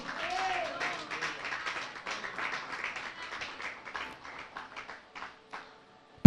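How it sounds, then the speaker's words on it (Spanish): A church congregation claps in praise to Christ, a dense burst of applause that thins into scattered claps and fades out. "Dale un aplauso a Cristo."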